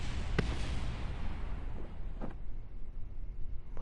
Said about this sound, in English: What were those explosions from?